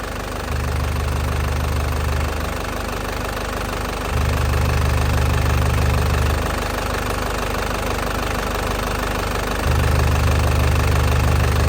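A hot 2010 Isuzu Panther LS Turbo diesel idles up close, a loud, steady knocking clatter with a low throb that swells and eases in slow cycles.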